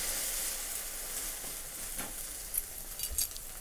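An egg roll flatbread sizzling in a pan just after flipping, producing a soft, fairly faint steady hiss with a few light clinks toward the end.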